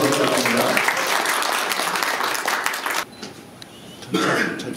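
Audience applause at a scholarship award ceremony of a community council in Atlanta, steady dense clapping for about three seconds, a brief lull with a cough, then a short renewed burst of clapping.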